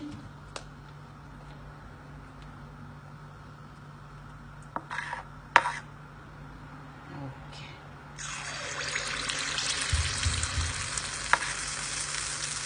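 After a few quiet clinks over a low hum, a sudden loud sizzle erupts as batter hits hot sesame oil in a paniyaram pan, settling into a steady frying hiss.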